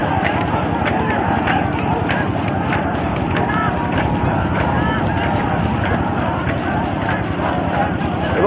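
A passenger boat engine drones steadily on an open river, with wind rumbling across the microphone and continuous broadband noise throughout.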